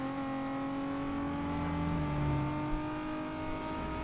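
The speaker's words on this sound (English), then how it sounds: "The car whistles now." Lexus car engine in Need for Speed: Most Wanted, a steady whistling turbo whine layered over a sustained engine drone, loud and continuous without any pause.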